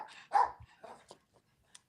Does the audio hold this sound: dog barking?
yes